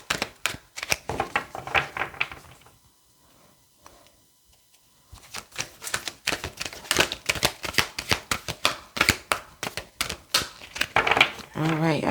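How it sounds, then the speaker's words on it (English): A deck of tarot cards is shuffled in rapid, crisp riffling bursts, close and clear, pausing briefly before resuming with steady papery flutters. "I don't think I'm getting a good shuffle in here."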